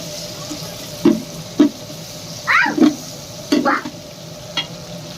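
Onion is added to a hot pan while making pavta rice, with a steady sizzle and several distinct stirring scrapes and clatters against the pan, close and fairly loud, no talking.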